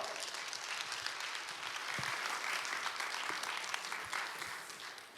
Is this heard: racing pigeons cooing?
no